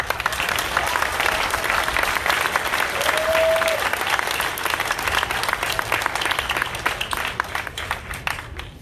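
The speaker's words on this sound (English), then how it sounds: "So I think you guys deserve a round of applause for that." A crowd at a Gresham Black Lives Matter event breaks into sustained applause, dense clapping with a few cheers, fairly close and loud, holding steady for several seconds before thinning slightly toward the end.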